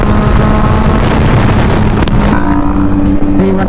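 A Kawasaki Z900 motorcycle accelerating hard in sports mode, a loud, close engine roar rising in pitch through the gears with heavy wind rush over the microphone.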